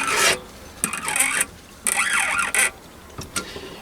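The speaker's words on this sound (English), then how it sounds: "you can turn the tap or turn the drill by hand to actually start the thread" A tap turned by hand cuts a thread into brass, giving short rasping scrapes in bursts, roughly five strokes with brief pauses between them, close and fairly crisp, with no talking.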